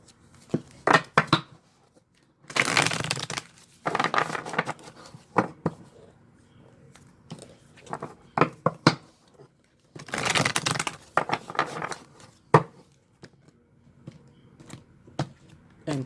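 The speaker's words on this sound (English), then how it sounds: "Give these a little shuffle." Tarot cards being shuffled by hand, with bursts of riffling and flicking alternating with crisp single snaps and short pauses, close and fairly loud with brief talk between bursts.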